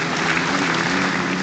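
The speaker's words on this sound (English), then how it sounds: "Great to hear the crowd appreciating that as well." A crowd at a club championship race meeting applauds a racer, a dense steady wash of clapping from many hands, loud and continuous throughout.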